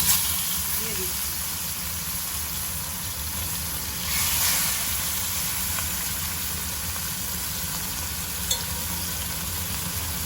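Rohu fish fries in mustard oil with a steady, moderate sizzle and a soft background hiss, occasional light scraping, and a faint voice underneath.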